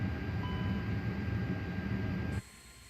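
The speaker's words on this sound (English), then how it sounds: "You can hear that engine starting." An Airbus A330 jet engine spools up during start in Microsoft Flight Simulator, a steady, loud roar and whine that cuts off abruptly near the end, leaving a quieter hum.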